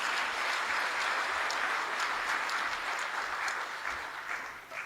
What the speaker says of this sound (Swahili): Makofi mengi sana.